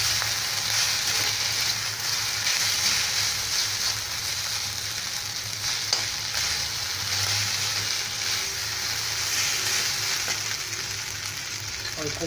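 Schezwan sauce is stirred into rice in a hot pan, giving a loud, continuous close-up sizzle with a faint scraping of stirring throughout and no talk.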